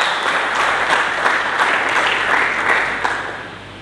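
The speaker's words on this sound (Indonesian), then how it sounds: "Mari kita berikan tepuk tangan yang meriah bagi Yesus." A congregation in church gives Jesus a loud round of applause, many hands clapping in a thick continuous wash that holds steady and then tapers off near the close.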